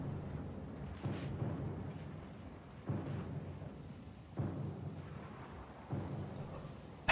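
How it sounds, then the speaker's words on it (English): Deep rumbling storm with thunder in the video game Pillars of Eternity II: Deadfire, a continuous low roar broken by several heavy rolling swells at regular intervals, moderately loud with no talking. "Storm's pretty loud"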